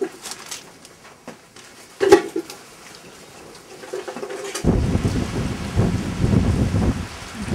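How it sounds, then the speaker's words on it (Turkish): Rain and thunder at a hunting camp in Akseki, Turkey: scattered faint taps and a sharp crack early on, then a louder, denser wash of rain and low rumble that fills the second half. "Biraz da yağmurun dinmesini bekliyoruz."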